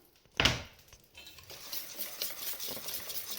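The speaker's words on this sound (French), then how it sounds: "Maintenant, je peux les faire cuire petit à petit." Crêpes cook in a pan, starting with a sharp clack of a utensil against the pan, then a soft, steady sizzle close by, with no talking.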